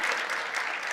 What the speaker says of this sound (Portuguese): uma salva de palmas para Flávio